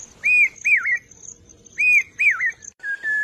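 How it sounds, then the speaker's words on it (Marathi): A pavasha bird in the Sahyadri hills calls in clear, melodious whistled phrases, two paired notes repeated twice, close and distinct, then a steadier whistle at the end. "पावसा पक्षी त्याच्या मधुर स्वरात जणू पेरते व्हा पेरते व्हा अशी साद घालतोय"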